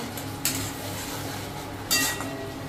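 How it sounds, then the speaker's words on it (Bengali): Tomatoes stirred in a cooking pan while preparing prawn malaikari: two faint metallic clinks of a utensil against the pan over a low, quiet background, no voices. "টমেটোটা দিয়ে একটু নাড়াচাড়া করি"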